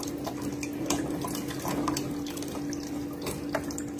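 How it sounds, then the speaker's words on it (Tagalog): Water gushing and bubbling through a drinking straw, a steady close trickling and splashing rush with small drips, no voices. "Gusto ni Miko yung ganyan na bumubulwak yung tubig."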